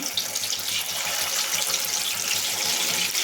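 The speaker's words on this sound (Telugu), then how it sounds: "ఇప్పుడు మీడియం ఫ్లేమ్లోకి అయితే పెట్టేసుకొని మ్యారినేట్ చేసి చికెన్ అయితే వేసేసుకుందాము" Marinated chicken kebab pieces deep-fry in hot oil over a medium flame, giving a steady, dense bubbling hiss that stays even throughout.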